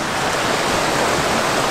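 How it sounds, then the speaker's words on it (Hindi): A small waterfall in Jibhi, Himachal Pradesh, gives a continuous, even roar of falling water that is close and fairly loud, unbroken and with no voices over it. "छोटा सा झरना तो यहीं से दिख रहा है"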